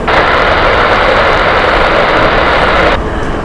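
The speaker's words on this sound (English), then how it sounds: "Airbus A319." Loud, steady roar of an Airbus A319 jet at Heathrow Airport, filling the whole clip with broad engine rumble and hiss before easing slightly near the end.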